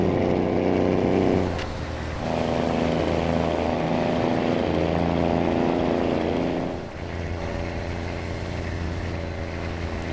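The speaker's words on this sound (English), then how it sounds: "the sound of this engine is blowing me away in this truck." Kenworth T2000 truck engine in American Truck Simulator, a loud continuous diesel drone with deep steady harmonics, heard from the cab; the pitch drops as the throttle lets off around two seconds and again near seven seconds.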